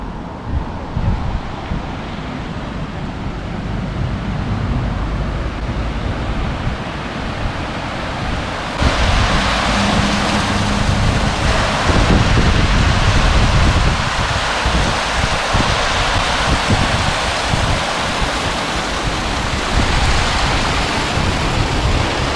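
Water pours over a dam on the Hnylopiat river in Berdychiv, a steady broadband rushing that swells louder partway through, with wind buffeting the microphone and no voices.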